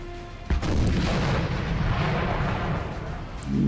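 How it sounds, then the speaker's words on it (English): French artillery fires in the video game Napoleon Total War, a sharp boom followed by a long, loud rumbling roar of battle that fills the rest of the moment. "The French artillery, that's French artillery right there."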